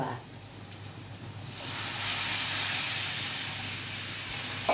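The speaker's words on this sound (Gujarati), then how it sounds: "હવે આમાં હું આ છાશ નાખીશ." Buttermilk hits hot tempering oil in a pan for vaghareli rotli, raising a loud, steady hiss and sizzle that swells after a quiet start and holds close and continuous to the end.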